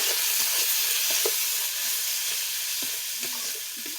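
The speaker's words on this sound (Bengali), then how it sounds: "যতক্ষণ না মশলার কাঁচা গন্ধটা বের হয় ততক্ষণ আমি নাড়তে থাকবো" Turmeric, cumin and chili powder fry in a hot pan as they are stirred, giving a steady loud sizzle with a few soft scrapes and taps of the spoon throughout.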